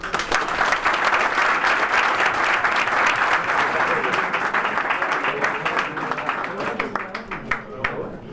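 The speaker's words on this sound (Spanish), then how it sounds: "el primer aplauso, comienza el pesaje oficial" A crowd applauds at the official weigh-in for a European boxing championship, sustained dense clapping that gradually thins into scattered claps near the end.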